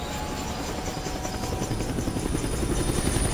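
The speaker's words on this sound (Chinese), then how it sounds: "卡普空直升机出发！" A helicopter in the video game Dead Rising Deluxe Remaster, a steady fast rotor chop with a whining engine hum, continuous and moderately loud with no voices.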